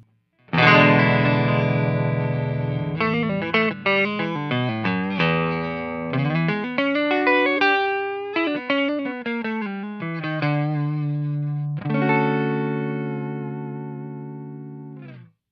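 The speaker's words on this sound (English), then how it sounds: "Here's my clean tone. I'm playing through a custom Strat on the neck pickup through a Classe tone amplifier." Clean electric guitar tone from a custom Strat on its neck pickup through a Classe amplifier, playing a melodic phrase of picked single notes and chords with some chorus-like shimmer, close and alone.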